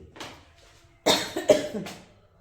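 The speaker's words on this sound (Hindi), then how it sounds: "थोड़ा बस खांसी सी आ रही है गाइस मुझे" A woman with a cold coughs close by: a soft breathy cough, then a pause and a louder burst of three rough, chesty coughs in quick succession, fading into quiet.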